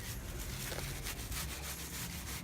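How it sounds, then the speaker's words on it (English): A shirt soaked in brake cleaner is rubbed over a car's brake caliper, giving a steady, close, scratchy wiping sound. "take it with the brake cleaner on it and wipe it down"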